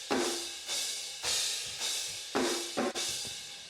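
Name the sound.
snare drum hits with heavily compressed room mics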